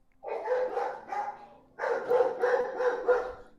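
A dog barks in two bursts of several quick, loud yelps each, close by with a short pause between the groups; no one talks over it.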